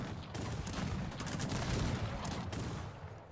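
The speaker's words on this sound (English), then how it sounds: "the Grenadiers and Dragoons of Antik are following and shooting down these formations" Grenadiers and dragoons fire musket volleys in Cossacks 3, a rolling, crackling fusillade of many overlapping shots with sharper bursts, fairly distant and sustained throughout.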